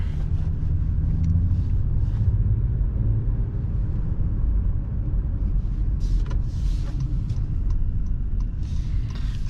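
A 2020 Honda Passport EX-L cruising on a road, with steady low engine and tire rumble filling the cabin and a few faint clicks and rattles from inside, no talking.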